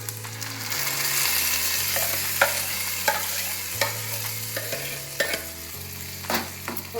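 Ground tomato chutney paste pours into a hot pan with a steady sizzle, and a spoon scrapes and stirs in a few sharp clacks.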